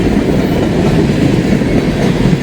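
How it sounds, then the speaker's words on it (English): A freight train of empty slab gondolas and slab cars rolls past at moderate speed, a loud, steady rumble with clattering wheels close by. "Here come the empty slab gondolas and slab cars."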